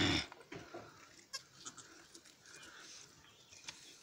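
A goat bleats faintly a few times in a quiet farm setting, short soft cries after a brief louder noise at the start, with low background sounds between.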